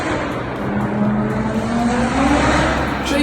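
A modified Vauxhall Corsa 1.3 CDTI diesel with DPF delete, full exhaust system and race chip revs loudly and continuously, its engine note climbing steadily with no voices.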